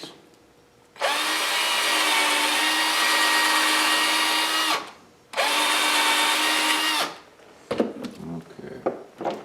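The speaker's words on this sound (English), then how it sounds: "I hate these chuckless drills." A chuckless power drill bores into a bear claw for a necklace, running loud and steady in two long bursts with a short pause between, followed by quieter handling and tapping noises.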